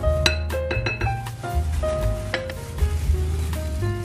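A spoon scrapes and clinks against a bowl while grated coconut is stirred into a flour mixture for puto bao. Repeated sharp, close taps ring out in an uneven rhythm over a low steady hum.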